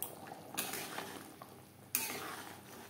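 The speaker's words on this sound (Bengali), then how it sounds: "কাসুরি মেথি ও গরম মশলা পাউডার গ্রেভির সাথে বেশ ভালো করে মিক্সড করে দেব" Kasuri methi and garam masala powder stirred into a simmering egg curry gravy bring quiet scraping and a couple of louder clinks of a spoon against the pan over a faint, soft sizzle.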